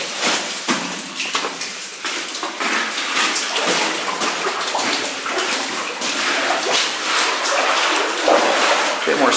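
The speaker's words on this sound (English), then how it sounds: "there's water running down all over the place" Water running and dripping down the walls inside a gold mine drift, a steady, dense splashing wash that fills the space continuously and stays fairly loud throughout.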